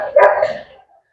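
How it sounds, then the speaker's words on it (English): A dog gives a single short, fairly close bark that trails off quickly, heard alone in a home kitchen. "You guys ignore our dogs, okay? They're just there disturbing us."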